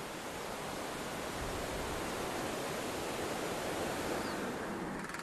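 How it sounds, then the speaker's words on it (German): The Kishu river in Tibet flows beside a road, a steady broadband rush of water that stays at an even level throughout, with no voices. "Träge fließt der Kishu-Fluss entlang der Straße."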